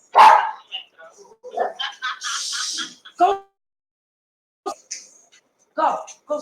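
A dog barks and yips in several short, loud bursts close by, separated by silent gaps, with vocal sounds that may be a person's voice mixed between the barks.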